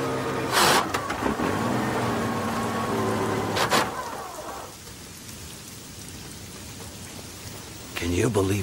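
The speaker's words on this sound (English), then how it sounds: "you believe this rain?" Heavy rain pours in Italy as a dense, steady wash of close drops, with a couple of brief louder surges near the start and end.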